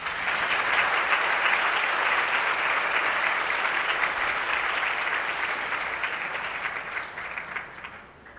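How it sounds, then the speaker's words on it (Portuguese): Sustained audience applause after an opening conference lecture, a dense, steady wash of clapping from a large crowd that holds for several seconds and then begins to taper off, with no voices over it. "Mais uma vez os aplausos"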